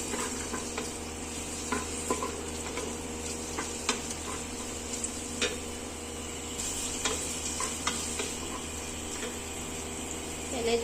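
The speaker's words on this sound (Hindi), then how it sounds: "प्याज सोते हो रहा है" Onions sautéing in a karahi for beef karahi, a steady low sizzle with light scraping and ticking stir sounds, close and moderately quiet.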